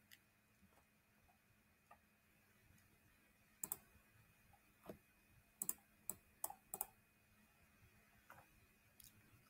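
A computer mouse clicks sharply several times, one single click and then a quick run of four or five clicks close together, over a quiet room hum with no talking.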